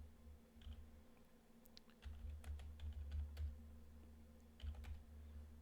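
Quiet typing on a computer keyboard while logging in as root on Kali Linux, a scattered run of soft key clicks over a low steady hum.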